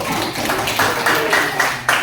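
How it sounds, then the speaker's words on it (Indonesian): Classroom of primary school children clapping together for a student group, a dense steady patter of hands with a few louder bursts, fairly close and continuous. "tepuk tangan untuk kelompok 1"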